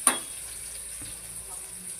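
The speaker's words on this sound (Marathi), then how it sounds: "कांदा हलवून घ्यायचा" Onion is stirred and sautéed in a pan, beginning with one sharp metallic clack of a spoon against the pan. A faint, steady background sizzle follows, with a soft knock around the middle and no talking.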